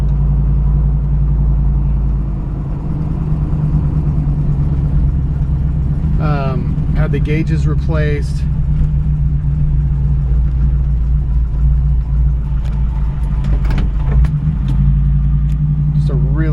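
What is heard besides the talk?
1972 Chevrolet Camaro rebuilt engine idling with exhaust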